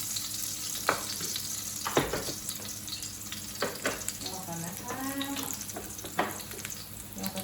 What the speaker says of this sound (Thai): ใส่กระเทียมลงไปเจียวกระเทียมให้มัน หอม เหลืองก่อนนะคะ